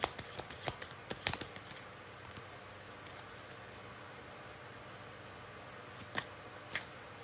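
Tarot cards being shuffled and drawn: a quick burst of riffling and flicking near the start, then quiet with a few soft card snaps later on, close and fairly faint, with no talking.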